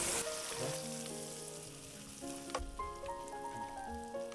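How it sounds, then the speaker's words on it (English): Shrimp go back into hot oil for a second deep-fry while making honey walnut prawns, giving a steady, close sizzle and bubbling under tonal background music. "Here comes the shrimp back into the oil"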